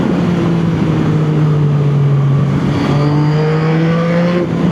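A 2021 Yamaha MT-09 motorcycle engine and exhaust hum steadily at close range with a loud, continuous drone that drops briefly and then rises again, with no voices.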